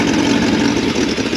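A 1962 Ford Thunderbird's 428 big block V8 idling with a very quiet exhaust, a steady, close, low rumbling drone with a faint rough pulse and no talk.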